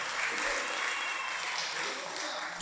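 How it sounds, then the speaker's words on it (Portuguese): Church congregation applauding throughout, a dense sustained clapping wash at moderate level with no break. "Você pode aplaudir ao Senhor?"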